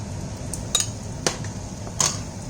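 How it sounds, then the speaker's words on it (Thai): Sponge gourd goes into a pot of mushroom curry, heard as three sharp clinks against the pot spread over a couple of seconds above a low, steady background. "ใส่บวบลงไปค่ะ"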